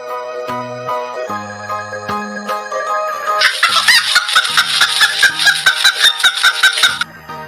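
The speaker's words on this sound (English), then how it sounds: "Cock." A rooster's call rises into a loud, dense, rasping stretch of several seconds after a short bouncy jingle of background music.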